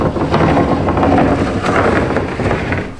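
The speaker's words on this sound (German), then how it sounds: "Ein bisschen windig heute." Loud, blustery wind buffets the microphone throughout, a continuous rumbling roar with no voices.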